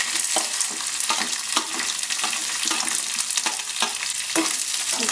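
Onions frying and being stirred in a pan for wheat masala dosa, a steady close sizzle broken by repeated scraping stir strokes, with no talking.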